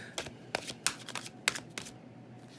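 Tarot cards riffled and shuffled by hand for a reading, a quiet, close series of quick papery flicks and soft slaps spread over a few seconds.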